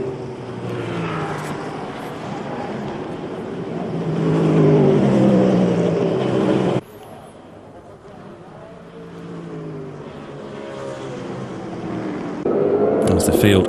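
Racing cars from the 2011 International Superstars series pour through the La Source hairpin at Spa, their engines roaring and rising in pitch as the field accelerates, heard beneath continuous commentary with a brief dip midway.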